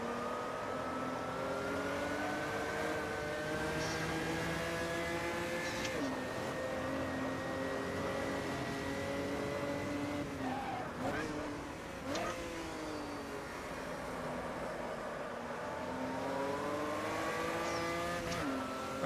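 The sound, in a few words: old school V8 race car engine rumble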